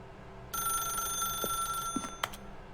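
An office telephone in The Stanley Parable rings with a steady electronic trill that starts abruptly and holds, with a couple of soft thuds and clicks near the end.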